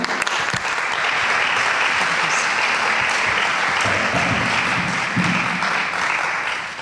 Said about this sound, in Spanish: escuchamos a doña Pilar Gordillo, a la que pido un aplauso también